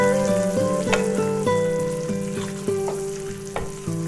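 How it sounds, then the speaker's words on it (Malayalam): Water boils in a pot for chicken upma with a steady bubbling hiss, broken by a few sharp clinks and stirring knocks. "വെള്ളം തിളച്ച് വന്നിട്ടുണ്ട്."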